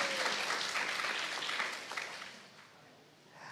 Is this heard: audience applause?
yes